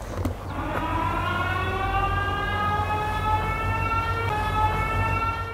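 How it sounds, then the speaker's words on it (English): A siren wails steadily in a forest, one loud sustained tone whose pitch slowly drifts downward across several seconds, heard alone over a low rumbling background. "I hear like a police siren or something."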